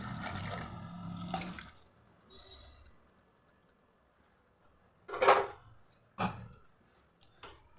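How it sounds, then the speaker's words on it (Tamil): Short splashes of water poured into a pan of jaggery for carrot poha payasam, with clinks of metal utensils and quiet kitchen clatter between the bursts. "கொஞ்சமாக தண்ணி ஊற்றிக்கலாம்"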